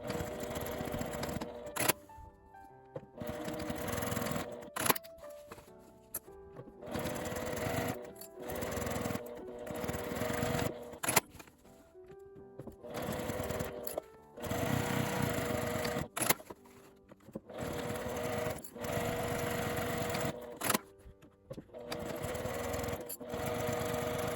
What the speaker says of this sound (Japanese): 表側も端と下1センチの縫い代で縫います。